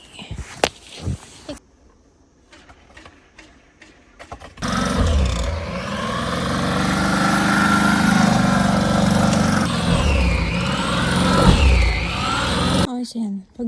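A snow removal machine runs steadily for several seconds in snowy Hokkaido, a loud continuous engine roar with shifting pitch, preceded by a few scattered knocks and faint voices.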